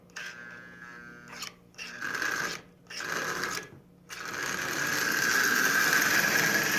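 A cold, unoiled Marx 666 smoking toy locomotive runs on its track, moving forward and then backward. It gives a steady mechanical whir and hum that stops briefly a few times, then settles into a louder, continuous drone.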